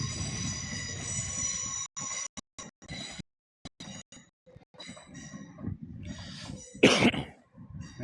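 A Class 082 diesel locomotive passes at York station, its engine drone steady and close with a few sharp bursts, while the recording drops out in brief gaps.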